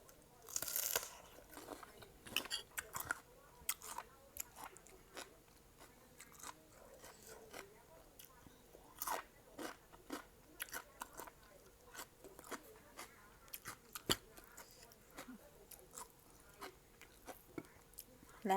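Crunchy spicy papaya salad with fresh shrimp and dried chilies being eaten up close, with faint, rapid biting and chewing crunches in a busy irregular stream and occasional soft scrapes.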